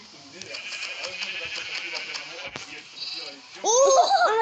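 Sheep bleating in the video game Minecraft, a wavering bleat near the end, loud and close, following a stretch of game noise and someone talking.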